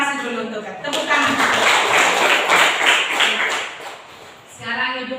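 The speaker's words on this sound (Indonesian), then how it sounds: "sekali lagi ucapkan terima kasih dulu untuk tepuk tangan" Classroom applause from pupils fills most of the clip as a dense, steady patter of clapping at moderate loudness, with a teacher's voice heard before and after it.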